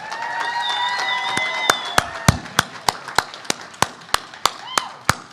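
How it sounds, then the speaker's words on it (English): At an auctioneer championship, applause for the auctioneers comes as sharp, evenly spaced claps building into a steady rhythm, with whistle-like tones and crowd noise at the start. "let's give these guys a round of applause"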